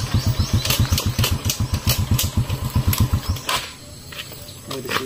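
A motorcycle engine fires up and settles into a rapid, loud, chugging idle for about three seconds, then cuts off, leaving faint background noise and a brief mechanical clatter near the end.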